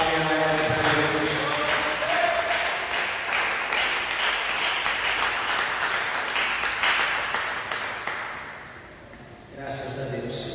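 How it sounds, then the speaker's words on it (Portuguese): A church congregation breaks into sustained applause that fills the room, with voices calling out over the dense crowd clapping before it thins near the end. "desocupem vossas mãos e dê uma salva de palmas para Jesus"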